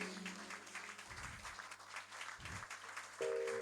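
A church congregation claps through a service, the applause faint and sustained over low, held keyboard tones, with a louder chord entering at the end.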